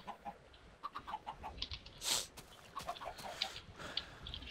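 Chickens clucking on a Minecraft chicken farm, a scattered run of soft, short clucks repeating irregularly at low level, with one brief louder burst midway and no talk.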